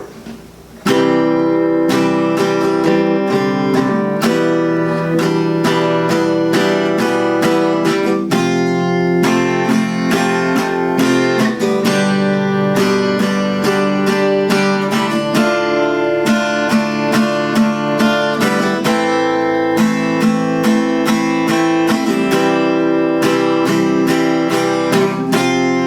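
Acoustic guitar strums the verse chords of a song in a steady, full rhythm, close and alone throughout.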